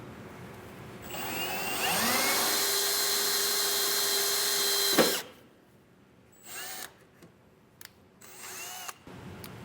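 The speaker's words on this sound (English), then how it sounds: "I'm going to drill a hole into our frame," A handheld power drill with a small bit bores into the steel frame of a 2022 Ford F-250, a loud, steady high whine lasting about four seconds that stops abruptly, followed by a few short clanks and shuffles.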